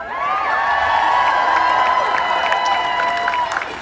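Large crowd at an Abolish ICE march in Providence, with steady cheering, whooping and clapping throughout and shouting voices carrying over the noise.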